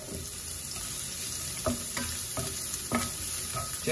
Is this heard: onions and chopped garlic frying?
yes